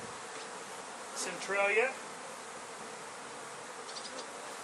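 An angry honeybee hive buzzes in a low, continuous drone, faint and steady, while someone briefly speaks over it.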